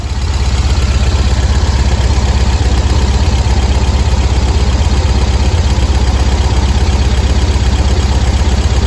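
Volkswagen engine with dual 34 carburetors idling steadily during carb synchronization, a loud, constant close-up drone with low rumble and no talk.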